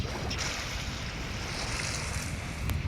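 A submarine glides underwater in the video game INSIDE, giving a dense, continuous rumble and rush of moving water with no pauses, fairly loud and close.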